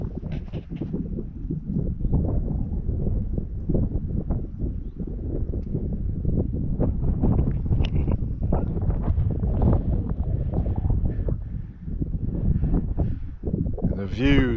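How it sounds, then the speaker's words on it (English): Wind swirls across a high-country meadow on Brier Ridge, a loud continuous buffeting and rumble against the microphone that lasts throughout, with a brief higher whine near the end. "Wind is still swirling around pretty good"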